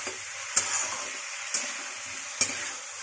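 A few scattered scrapes of potatoes being stirred in a pan over quiet background sizzle, three brief spatula knocks spaced about a second apart.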